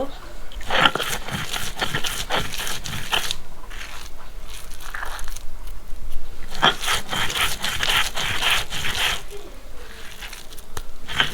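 Chepa fish paste being ground with salt on a stone makes rough, rhythmic scraping and crushing strokes in bursts, near and moderately loud, with pauses between.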